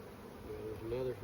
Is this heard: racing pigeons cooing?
no